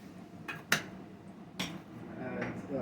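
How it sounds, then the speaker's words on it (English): A spoon grabbed from among kitchen utensils, a couple of sharp metallic clinks and a rattle close by, quiet overall with faint background noise. "I'm gonna grab a spoon"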